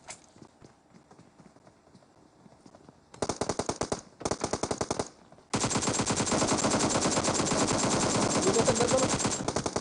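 Rapid automatic gunfire from the video game Free Fire, loud and dense: two short bursts, then a long sustained barrage to the end, with faint game sounds before the shooting starts.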